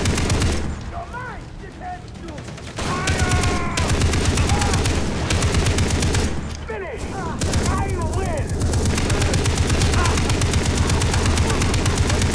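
Rapid bursts of Far Cry 3 gunfire and booming explosions fill the scene continuously, with a voice shouting now and then over the din.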